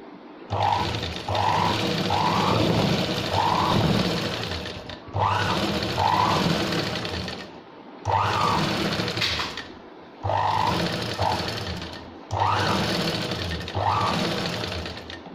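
A sewing machine runs in five steady bursts of whirring, rapid stitching as lace is sewn onto a blouse. The motor is close and clear, and short pauses separate the runs.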